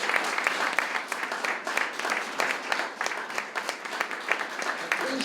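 A large audience applauds steadily at a formal municipal awards ceremony in Ravne na Koroškem, dense continuous clapping filling the room for several seconds.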